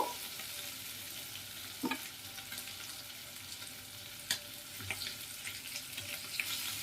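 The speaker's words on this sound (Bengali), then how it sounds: "মাছগুলোকে কড়া করে ভেজে নিয়েছি" Small mixed fish frying crisp in a pan, a quiet steady sizzle with occasional soft clicks and taps from turning.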